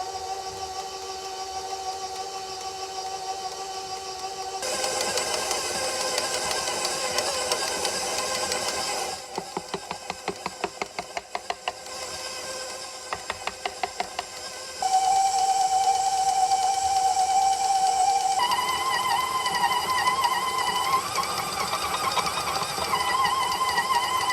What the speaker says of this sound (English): you're going to add this slowly and turn the mixer on slowly so I don't wear it